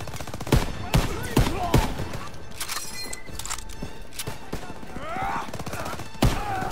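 Machine gun fire in Call of Duty: WWII, Operation Cobra: loud, close bursts of rapid shots with sharp individual cracks, along with distant gunfire and battlefield clatter and some brief voices.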